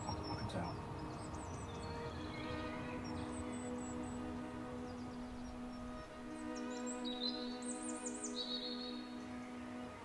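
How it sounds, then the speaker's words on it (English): Sparrows chirp in short high bursts scattered across a countryside setting, set against a steady low hum and occasional faint voices. "There's sparrows around."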